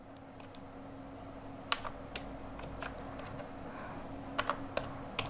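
Keystrokes on a computer keyboard while entering a total amount into an Excel ledger, a sparse, irregular run of crisp clicks over a steady room hum, close and with no talking.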